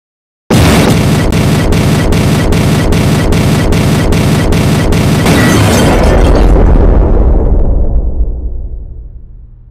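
A sudden, deafening explosion in a video game erupts and roars on with rapid crackling bursts, then the rumble slowly dies away.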